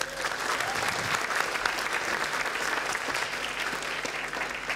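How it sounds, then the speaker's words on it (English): Sustained, even applause from a large audience at a youth summit, with dense, steady clapping and a faint crowd murmur throughout. "round of applause for them."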